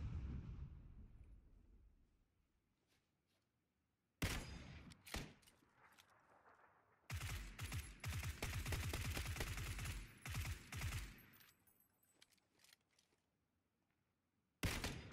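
Gunshots in the video game PUBG Battlegrounds, a fading tail and then sharp loud reports followed by a sustained burst of rapid automatic fire, with silent gaps between bursts.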